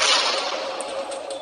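A broad burst of roaring noise, like the tail of an explosion in a film, rumbles and hisses briefly with crackling debris-like pops.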